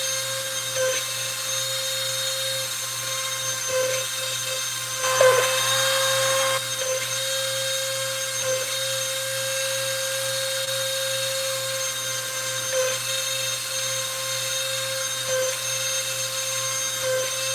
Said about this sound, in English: I think my son broke the drill tip